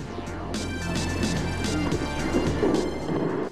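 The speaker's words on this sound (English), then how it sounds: "That was the sound of the water hitting itself at the bottom." Water from the Bellagio fountain show in Las Vegas crashes down at the bottom in a loud, continuous roar and splash that swells slightly midway, heard alone with no talk.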